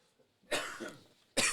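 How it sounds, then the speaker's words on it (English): A person breaks into a harsh coughing fit after taking too big a hit from a smoke: a long rasping burst, a short pause, then another loud cough right up close. "That's why I cough so much."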